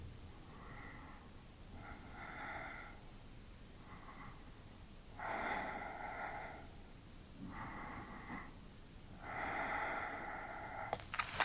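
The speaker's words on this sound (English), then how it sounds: "Breathing here." A person breathes slowly and audibly while lying in the yoga happy baby pose, a series of six soft, airy breaths with steady pauses in a quiet room.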